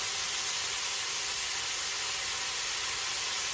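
Sausage and small frozen onions browning in a pan for chili give off a constant, even hiss of frying that stays level throughout, with no voices.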